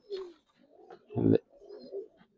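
Giribaz pigeons coo close by, a few soft throaty calls with one louder, fuller coo in the middle, set against a quiet background with no talking.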